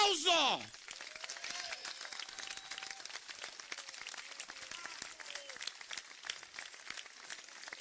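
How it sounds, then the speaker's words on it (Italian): Scattered audience applause at an outdoor campaign rally for a mayoral candidate in Taormina, a thin, steady patter of clapping running on after a brief loud voice at the start, with faint tones and chatter underneath. "Allora un applauso."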